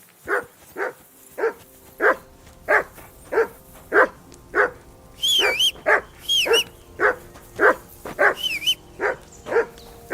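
Dog in Kingdom Come: Deliverance 2 barks again and again in a steady rhythm, loud and close, with a few high whistling or whining tones slipping in between the barks.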